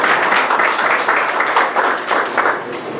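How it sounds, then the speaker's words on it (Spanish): An audience applauds a speaker at a lecture, a steady, full wash of many hands clapping for a few seconds with no talking over it. "Les pido un aplauso, por favor, para el doctor Alejandro Bendaña."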